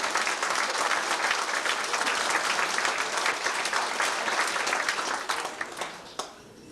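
Dense, steady applause fills a dinner dance hall in a 1989 hotel gathering in Gort a Choirce, sustained at full volume before tapering off near the end.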